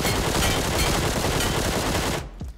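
Continuous rapid automatic gunfire from a QBZ assault rifle in PUBG Mobile Metro Royale, loud and dense, sustained for about two seconds before cutting off abruptly.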